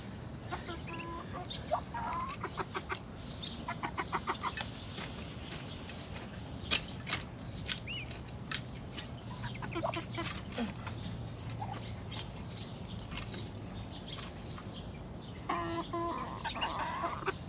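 Backyard chickens cluck and squawk in repeated bursts close by, with people talking over them throughout.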